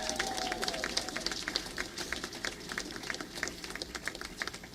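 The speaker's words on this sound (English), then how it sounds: "Can you please give that choir another round of applause?" An audience gives a round of applause for a choir that includes singers from the Illinois School for the Visually Impaired, at an outdoor gathering: dense, steady clapping that holds for several seconds at moderate distance, with faint voices mixed in.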